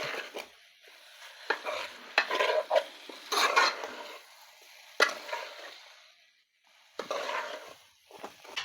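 Sesame powder stirred into a village-style bitter gourd curry, intermittent close scraping and mixing strokes of a spoon in a pan with faint sizzling and short pauses between strokes.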